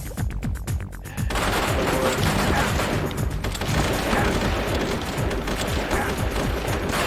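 Rapid, dense gunfire from the video game Metal Gear Solid: The Twin Snakes, with close, loud bursts that run almost nonstop through the whole stretch.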